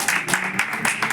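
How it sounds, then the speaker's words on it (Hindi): A crowd gives loud, rhythmic applause for children who won 25 yogasana medals, clapping together in steady beats about four per second, near and forceful. "इन सभी बच्चों के लिए एक बार जोरदार तालियां"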